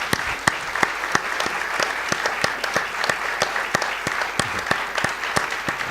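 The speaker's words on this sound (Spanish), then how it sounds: "queremos manifestártelo con un aplauso" An audience claps in steady applause at a talk on music in the liturgy, a dense run of sharp hand claps that holds level throughout with no voices over it.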